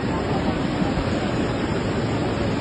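A swollen river in flood rushes past close to a house, filling the air with a loud, steady, unbroken roar of churning water.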